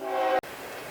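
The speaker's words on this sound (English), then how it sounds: "That was the train coming through." A passing train near a greenhouse sounds a steady, loud horn that cuts off abruptly partway through, leaving a continuous rumble of the train rolling by.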